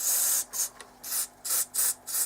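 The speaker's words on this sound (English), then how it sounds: "And a bit of contact cleaner up here as well." Short aerosol bursts of contact cleaner sprayed into the switch of a 1980s Saisho RTR 950 radio cassette player, about five hissing blasts in an uneven rhythm, close and fairly loud, with no talking.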